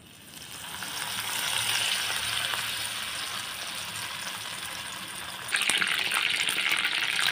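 Breaded mushrooms frying in hot oil give a steady, dense sizzle that swells louder near the end, heard up close with no voices.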